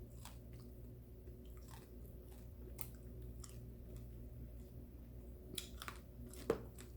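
Crunchy bites and chewing of fried catfish, close and fairly quiet, with irregular crisp crackles over a low steady background and one sharper crunch near the end.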